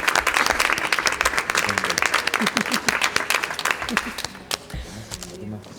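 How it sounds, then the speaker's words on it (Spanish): Audience applause at a literary talk, dense clapping that stays steady and fairly loud before thinning out toward the end, with a voice speaking over it. "Yo os aplaudo a vosotros."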